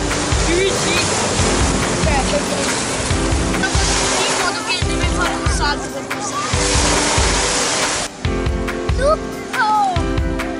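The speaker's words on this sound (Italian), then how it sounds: "Oh, è il mare." Sea waves wash on a Provence shore, a steady loud surf roar running throughout with a rhythmic swell, mixed with faint background chatter and other noise.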